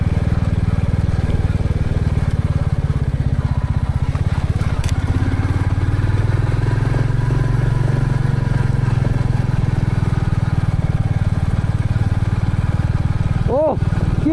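A motorcycle climbing an off-road hill road in gear on a ride in the North Bengal hills near Ahaldhara, giving a loud, steady engine drone that holds throughout with rough wind noise.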